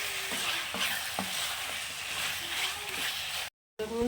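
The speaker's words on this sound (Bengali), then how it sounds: "চিকেনটা তো এখানে কষা হচ্ছে" Chicken sautéing in oil for a white chicken korma, a steady hiss of frying with repeated stirring scrapes and a faint voice in the background, cut by a brief dropout near the end.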